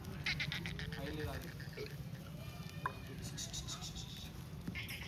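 Kathiawadi goats arriving by vehicle bleat repeatedly at close range, overlapping with a steady hum of background noise while people talk nearby.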